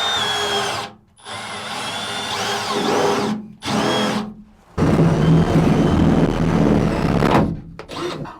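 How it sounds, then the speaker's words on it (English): A cordless drill bores into the bow of a jet boat in loud, whirring bursts, with short pauses between runs and one longer, sustained stretch of drilling near the end. "hopefully have enough battery left on this drill and tackle those as well"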